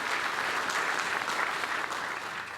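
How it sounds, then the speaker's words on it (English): An audience at the Weslaco State of the City Address applauds the event staff, with dense, even clapping that holds steady throughout and tapers slightly at the end. "Another round of applause to the staff and everybody that put it together."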